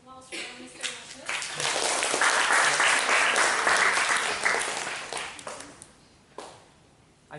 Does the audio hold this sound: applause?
yes